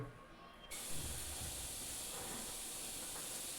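Hot oil tempering with chili flakes is poured into cooked dal, setting off a sudden loud, steady sizzle that keeps hissing close up with no break.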